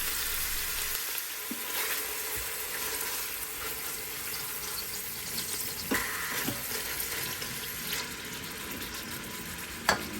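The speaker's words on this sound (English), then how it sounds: "let it sear, get it on all its different sides" Meat sears in an Instant Pot with a steady, close sizzle and frying crackle running throughout, with a few brief clatters of stirring or turning the pieces.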